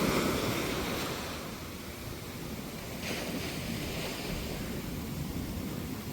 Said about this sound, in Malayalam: കടൽ ഓരോ തിരമാല അടിക്കും തോറും ഉടനെ അടുത്ത തിരമാലെങ്കിലും അങ്ങ് വന്നുകൊണ്ടിരിക്കണം